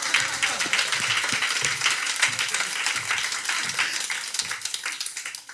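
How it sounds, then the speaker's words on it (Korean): Church congregation applauding together, a steady wash of many hands clapping at moderate distance, sustained evenly for several seconds with no talking over it. "우리 하나님께 영광의 박수 보내드리십시오."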